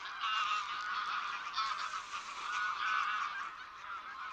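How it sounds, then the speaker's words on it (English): A large flock of wild geese honks continuously overhead in open countryside, a dense, steady chorus of overlapping calls at fairly even loudness throughout. "the sky is full of wild geese"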